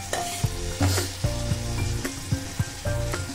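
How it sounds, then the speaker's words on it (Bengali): Cumin, mace, a dried chilli and bay leaf tempering in hot oil in a pan for a Bengali duck egg curry, a soft continuous sizzle broken by several sharp stirring knocks and scrapes, close by and with no talk. "এবারে প্যানে তেল নিয়েছি, নিয়ে তারপরে আমি এখানে জিরে, জৈত্রী, একটা শুকনো লঙ্কা আর তেজপাতা ফোড়ন দিলাম।"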